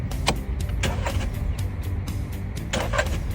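A car engine cranking but failing to start, repeated starter whirring in bursts with rhythmic clicks and mechanical rattles, close and moderately loud, heard without talk.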